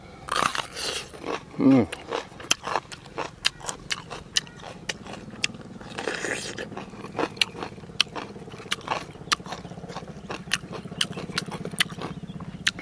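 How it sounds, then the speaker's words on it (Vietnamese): Close-up biting and crunching of raw green eggplant eaten with fermented fish dipping sauce, a few sharp crisp bites then steady chewing and small crackles, with a quiet voice heard briefly near the start. "đầu tiên mình sẽ ăn cắn miếng cà trước đã"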